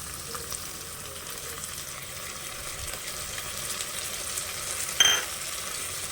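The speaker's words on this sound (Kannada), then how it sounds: "ಇದು ಸ್ವಲ್ಪ ಹಸಿ ವಾಸನೆ ಹೋಗೋವರೆಗೂ ನೀಟಾಗಿ ಫ್ರೈ ಮಾಡಬೇಕು" Ginger garlic paste fries in hot oil with coriander and mint for tomato bath, a steady close sizzle with light stirring scrapes and a sharp metallic click near the end.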